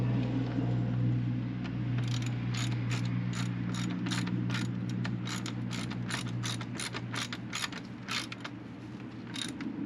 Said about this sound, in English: tighten the top bolt back up.